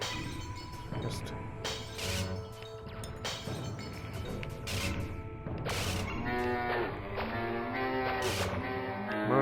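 Cattle moo sounds in the retro arcade video game Polybius, played in Classic Mode, sounding as several bright synthetic calls over busy game music and effects, with a person talking over the top.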